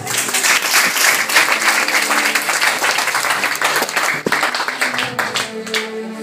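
A church congregation at a live deliverance service claps loudly and steadily for Jesus, dense applause filling the room with a few voices rising over it.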